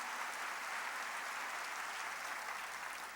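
A church congregation at a worship service bursts into steady, dense applause, heard from some distance and sustained throughout without a break.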